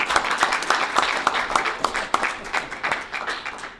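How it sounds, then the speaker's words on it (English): Applause from a city council meeting audience after a scout troop's flag ceremony, a moderate burst of scattered hand claps with some sharp individual claps standing out, fairly close in a room. "Let's give them a big round of applause, you guys."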